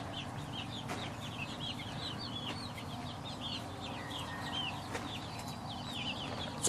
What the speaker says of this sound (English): Looks like the chicks are getting ready to go to bed.